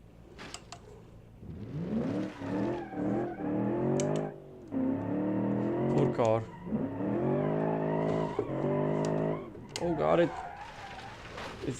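A car in the BeamNG driving game revs hard in repeated bursts, its engine whining up and down in pitch with tire squeal from wheelspin, loud and close with brief pauses between pulls.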